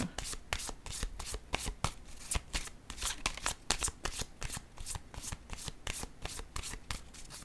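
A deck of cards is shuffled for a tarot-style card reading, giving a steady run of crisp, rapid riffling snaps close up that repeats throughout with no pause.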